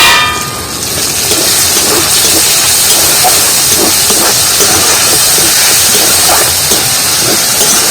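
Masala frying in oil for a vegetarian cauliflower curry, with a steady loud sizzling hiss throughout and faint clinks of a utensil.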